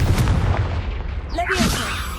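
A Confringo spell explosion in Hogwarts Legacy: a short, punchy burst with crackling debris after a low rumbling bed, followed by brief bright magical effects, loud and close.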